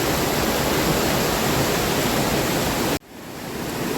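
Curug Penganten waterfall at Baturraden, Banyumas, roars as a loud, steady broadband rush of falling water close by, cutting off abruptly near the end before the roar returns more softly.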